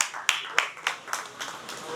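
An audience at a conference event claps for a speaker, a handful of sharp, evenly spaced hand claps that soften and thin out over two seconds.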